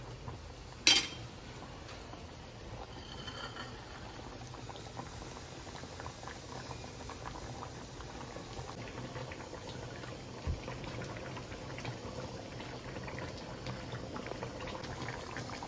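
Drumstick curry with tamarind bubbling in a pot, a steady close boil with soft popping and patter throughout, plus one brief clatter near the start.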